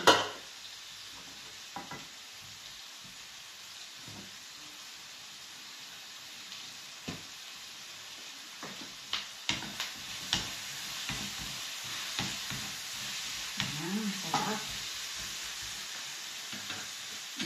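Fish frying in hot oil in a covered pan, giving a steady broadband sizzle with scattered sharp pops and spatters, plus a few clinks of a utensil against the pan.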